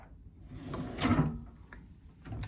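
A bathroom drawer under the sink slides open and shut with a wooden rumble and a soft knock, close by, followed by a faint second bump.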